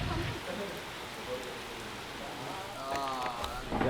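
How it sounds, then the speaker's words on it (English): Steady rain falls during a thunderstorm outdoors at a hostel, a dense, continuous hiss filling the whole stretch at moderate volume, with brief scattered noises and a faint voice-like sound near the end. "Yo, so Thomas, we're in a thunderstorm."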